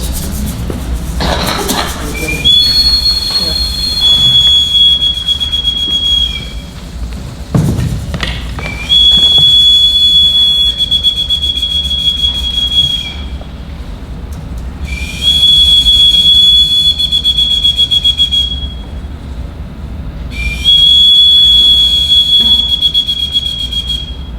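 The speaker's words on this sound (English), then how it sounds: "In the old days, these were whistles for help." High whistles blown in four long blasts during an Indigenous land acknowledgement ceremony in New York City, each lasting a few seconds with short gaps between, loud and close over a low rumbling background.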